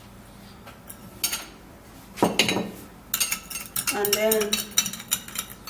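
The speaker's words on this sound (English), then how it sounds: "give it a little stir" Yogurt being mixed with a spoon in a bowl, with sharp clinks and scraping taps against the side in short bursts, close and fairly quiet, while someone speaks briefly.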